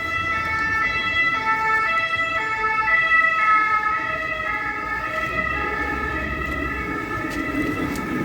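Sirens of a motorcade sweeping through Paris, several loud overlapping wailing tones rising and falling continuously over the hum of street traffic, with no talking.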